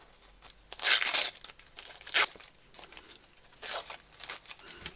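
Bursts of ripping, crackly tearing as a paper backing is pulled away from fabric, in three louder pulls with quieter rustling in between.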